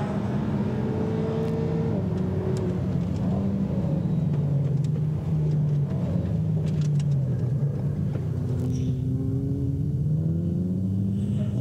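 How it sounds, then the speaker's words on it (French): Racing motorcycle lapping a race track at Chambley during a trackday, engine droning and shifting pitch continuously as it accelerates and decelerates, loud and close throughout with no talk. "c'est une moto de course"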